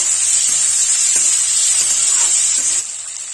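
Vegetables fry in a pan with onion, giving a loud, close, steady sizzle with a few soft stirring scrapes, and no talk.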